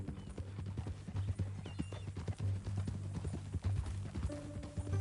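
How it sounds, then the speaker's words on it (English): Horse hooves clip-clop in the video game Red Dead Redemption II, a steady series of close, clear hoof beats with a faint whinny-like tone near the end. "That a new horse?"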